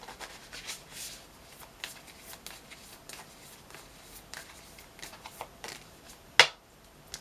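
Manifestation cards being shuffled and drawn at close range, soft repeated riffling and rubbing strokes with a sharp snap near the end, faint and intimate with no talk.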